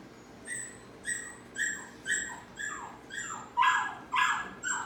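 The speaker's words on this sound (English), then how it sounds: "before she starts barking again" A female dog gives about eight high, whiny barks and yips at a steady rhythm, each lasting roughly half a second. They are close, grow slightly louder toward the end, and no one speaks.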